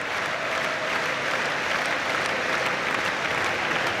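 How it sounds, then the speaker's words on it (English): A stadium crowd at a Liverpool versus West Ham Premier League match claps in tribute to a Portuguese international, a dense, continuous wash of applause from thousands of hands, loud and unbroken throughout. "Even some of the West Ham United supporters, in a touching manner, are joining in with a clapping in memory of the Portuguese international"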